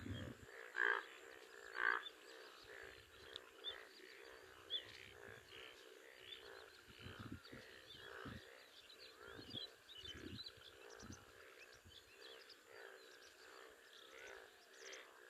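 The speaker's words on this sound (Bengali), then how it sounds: "আপনারা ব্যাঙের আওয়াজ শুনতে পারবেন" Frogs croaking after rain, a dense chorus of overlapping calls that pulses steadily throughout, with a few louder nearby croaks standing out against the continuous background.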